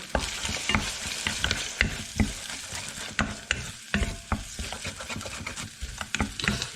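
Egg sizzles in a hot pan for crab fried rice while a utensil stirs and scrapes it in quick, irregular strokes, with close clacks over a constant frying crackle.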